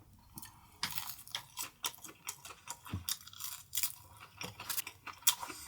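Crispy fried shrimp with a crisp outer shell crunches under close, repeated bites and chewing, an irregular run of sharp crackly bursts with no talking.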